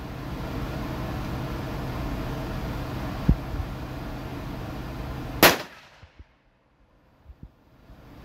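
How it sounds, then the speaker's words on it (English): A single sharp report from a custom rifle firing factory ammunition at an outdoor range, loud and brief against steady wind noise, followed by near silence and a few faint knocks. "I'll probably get some factory ammo and run the first rounds down through this"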